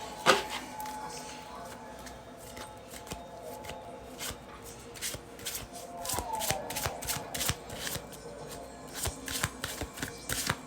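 Santa Muerte tarot cards are shuffled by hand in a quiet room, a run of crisp riffling flutters and soft slaps repeating close and fairly faint, with occasional light talk in the background.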